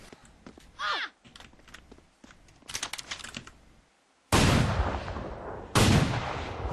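Gunshots ring out in The Culling, two loud, sharp bursts with ringing tails near the end, preceded by quieter clicks, footsteps and keyboard-like tapping.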